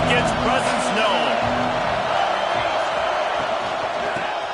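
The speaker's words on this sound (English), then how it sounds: "This crowd ready to make its presence known." A football stadium crowd roars in a dense, steady wash of cheering and whoops at an Ohio State game, loud and sustained throughout, with a commentator's voice faintly under the noise.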